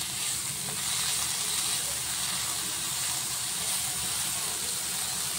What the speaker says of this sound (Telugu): ఇవన్నీ ఫ్రై అయిపోయాయి కదా, ఇప్పుడు క్యాప్సికమ్ లాస్ట్లోనే వేసుకోవాలి